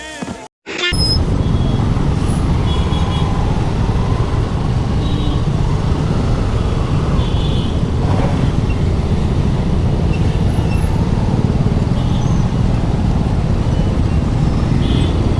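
Dense road traffic in Guwahati, with scooters and bikes crowding the street, makes a loud, continuous rumbling roar heard up close from a moving bike, steady throughout after a brief cut at the start.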